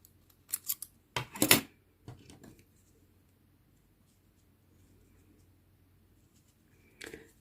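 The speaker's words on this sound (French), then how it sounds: "Et je vais couper l'excès du fil." Scissors snip the excess sewing thread on a handmade felt reindeer, a few quick close cuts in a cluster followed by a lone snip after a pause, with no talking.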